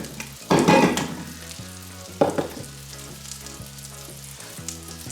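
Grouse meat sizzles and crackles in a hot frying pan, with two louder bursts of spitting fat and a low steady hum beneath.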